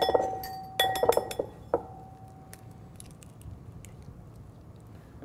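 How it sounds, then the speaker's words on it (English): A whisk knocks against a glass bowl while beating egg yolk, lime juice and olive oil into aioli: a quick cluster of bright, ringing clinks at the start, then a few isolated taps over a quiet background. "take an egg yolk, lime juice, and whisk in the olive oil to develop a nice little sauce for our salad"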